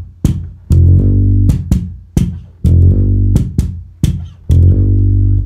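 A bass guitar plays a rumba/mento bass line with the top note tripled, deep, loud and close, in a bouncy repeating pattern of short, punchy low notes and quick repeated upper notes, with no talking.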